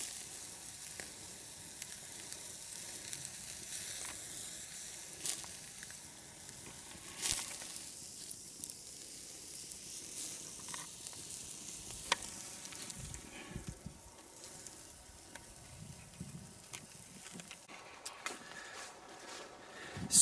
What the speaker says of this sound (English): small fireplace and tools, and a beer, and a wool blanket, and my steak is cooking